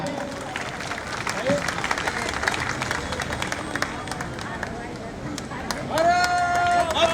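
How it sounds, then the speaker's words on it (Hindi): An audience at a BJP gathering in West Delhi, held for PM Modi's 70th birthday, breaks into vigorous clapping mixed with crowd murmur, swelling with louder voices toward the end. "एक बार जोरदार तालियां।"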